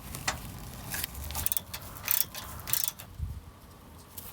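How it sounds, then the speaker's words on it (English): A hand ratchet tightens bolts on a Ford SVT Raptor radiator side shield, giving quick bursts of fairly faint, close mechanical clicking in uneven runs with short pauses between them. "Now I just gotta replace my bolts."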